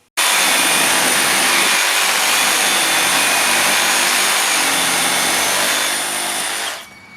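Cordless reciprocating saw running at 3000 RPM while cutting, a loud steady high-pitched mechanical whine that holds for about six seconds and then cuts off, with no talking.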